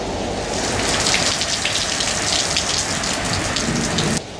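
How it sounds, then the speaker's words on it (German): Heavy tropical thunderstorm downpour in northern Australia, a dense, loud, continuous roar of rain pounding on surfaces that fills the whole stretch and drops off slightly at the very end, with no voices. "Jetzt kommt schon die zweite Gewitterschauer, die gerade heftig herniedergeht draußen"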